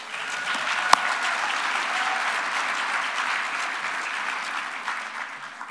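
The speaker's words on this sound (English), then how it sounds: "Round of applause for you." Steady, dense applause from a large audience at a pro-life summit conference, sustained and even throughout with one sharp clap standing out near the start.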